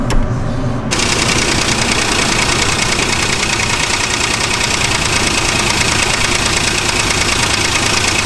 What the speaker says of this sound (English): We're going to fire this up and see if our tapping's gone.